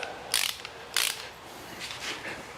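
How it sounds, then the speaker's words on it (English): Ratcheting clicks from a torque wrench tightening lug nuts on a Tesla Model 3 during a tire rotation, a few quiet, sharp mechanical clicks spaced across a couple of seconds. "once we hit 129 foot-pounds of torque or thereabouts, you should hear a click."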